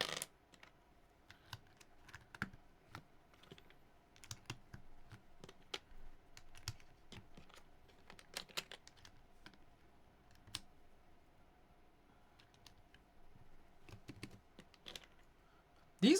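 Typing on a keyboard fitted with PBT keycaps, a quiet run of scattered keystroke clicks with irregular bursts and pauses, close but faint, with a low steady hum underneath.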